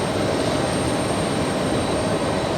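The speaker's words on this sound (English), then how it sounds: "A U.S. Air Force KC-10 flying above the New York City area." Steady, broadband jet roar from a U.S. Air Force KC-10 Extender flying in a holding pattern above the New York City area, a continuous distant rumble and hiss with no talk.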